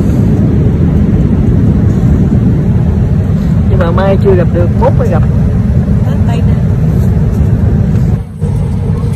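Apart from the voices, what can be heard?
airplane cabin noise in flight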